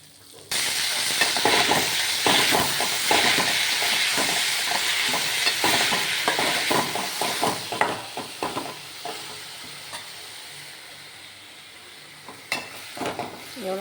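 Chopped amaranth stem greens (thandu keerai) stirred in a hot pan, a loud continuous sizzle with rhythmic scraping strokes that starts abruptly and softens toward the end, with occasional clinks.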